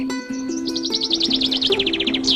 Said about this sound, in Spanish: el canto de los pájaros en la mañana